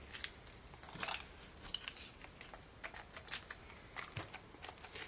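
Soft, irregular crinkling and rustling of dampened paper being crumpled by hand, in quick bursts close by, with no talking.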